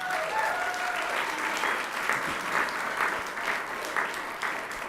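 A crowd applauds at a state school board meeting, steady clapping with many hands that holds at an even, moderate level and pulses slightly throughout.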